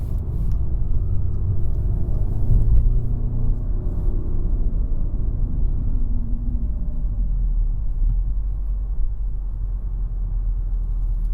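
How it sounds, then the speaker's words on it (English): A 2016 Audi S3 rumbles deeply while driving, a loud, continuous low engine drone from inside the car with gentle rises and falls and no one talking. "Downshifting is awesome."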